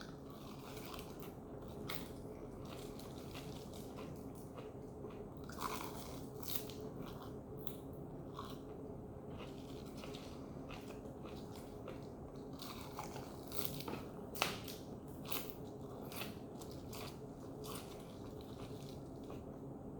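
Someone chews crunchy spinach leaves close up, with a steady run of moist bites and crunches for a long stretch under faint room noise.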